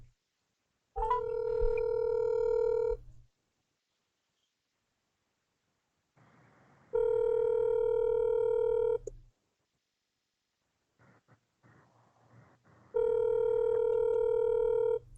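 Telephone tones sound in three long, loud bursts separated by silence, a steady electronic ringing or dial tone with a few faint clicks in the gaps, no voices.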